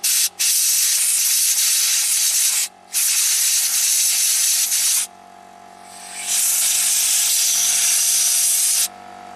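Compressed air blasts through a clogged mass airflow sensor on a 2008 Infiniti G37S to clear out fuzz, loud steady hissing bursts with two brief pauses, then a quieter lull before another long sustained blast, no talking.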